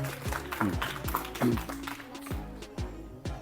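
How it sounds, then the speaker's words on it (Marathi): An audience at a quiz competition claps for a correct answer, a few sharp, uneven hand claps that thin out over a few seconds, with a voice briefly heard over them. "टाळ्या वाजवा"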